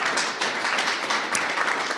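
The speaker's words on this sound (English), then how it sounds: "Let's give him a round of applause." Applause from an audience at a coastal change technology conference, a steady broadband patter of many hands clapping evenly for the full stretch with no gaps, moderately loud and fairly close.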